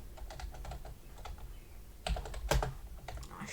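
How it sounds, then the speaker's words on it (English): Fingers typing on a computer keyboard in quick, uneven runs of light taps, with a couple of firmer key strikes near the end, heard close and alone. "I can type."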